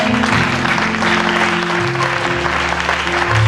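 A church congregation applauds loudly and without letup, the dense clapping layered over sustained organ or keyboard tones.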